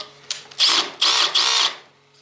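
A power drill drives a screw on the battery terminal of a Suzuki DR650 motorcycle, sounding as three close, loud whirring bursts, each about half a second long, with short pauses between them.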